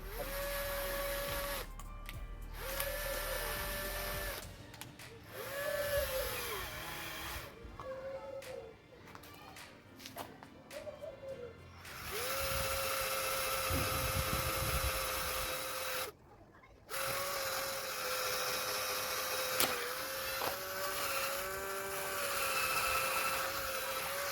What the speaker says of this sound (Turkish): gördüğünüz gibi ortadan deldim.